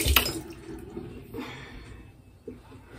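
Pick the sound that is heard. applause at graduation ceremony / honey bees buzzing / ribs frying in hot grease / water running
water running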